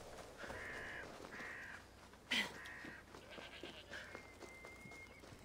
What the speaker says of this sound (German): Ziege.